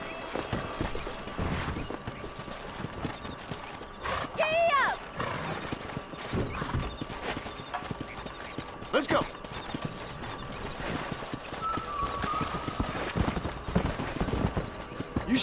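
Horses clip-clop and neigh in the Western video game Red Dead Redemption, with steady hoofbeats under frequent talk and a whinny partway through.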